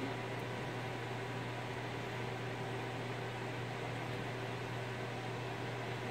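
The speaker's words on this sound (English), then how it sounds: "we're printing our own right here with our new 3D printer." A brand-new 3D printer prints a wrench indoors, giving a steady, even mechanical hum with a constant low drone and broadband whir that holds unchanged throughout, fairly close and without any voices.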